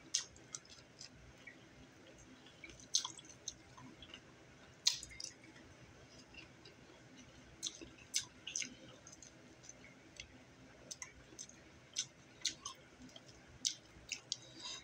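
Crunchy kimchi chewed close to the ear, with soft, irregular wet crunches and clicks, quiet overall.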